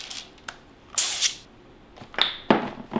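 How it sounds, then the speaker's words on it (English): Small handheld cooking-oil sprayer gives several short, hissing bursts close by onto bread dough in a kitchen, with one louder spray among quieter puffs and no speech. "I'm going to spray this with a little bit of spray first"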